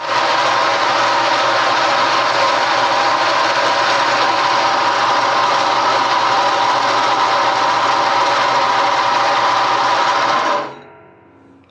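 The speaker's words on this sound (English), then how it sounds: "So let's head over to the bandsaw." A bandsaw cuts quarter-inch steel plate in a metal shop with a loud, steady whirring drone and buzzing blade, running continuously before winding down near the end, with no talk.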